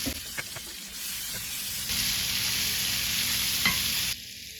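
Cut bell peppers and onions sizzle steadily in a hot pan while being stirred, a loud continuous frying hiss with occasional scraping clicks, getting louder partway through and then cutting off near the end.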